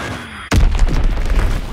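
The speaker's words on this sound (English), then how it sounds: "Azon bomb mission underway." A deep bomb explosion from a Call of Duty WWII team deathmatch in the Ardennes forest during an Azon bomb strike: one sudden loud boom, followed by a rumbling, crackling aftermath.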